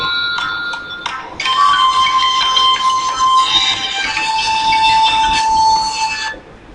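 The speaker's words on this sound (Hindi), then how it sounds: "मैं आप सीटी बजा के आपको चेक करके दिखा देता हूँ" A person whistles to trigger a phone finder app, giving loud, sustained, high-pitched tones in a few bursts and then one longer held whistle.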